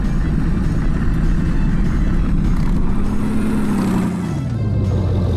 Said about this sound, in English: It's time to test the stacked trailer with sliding or drifting.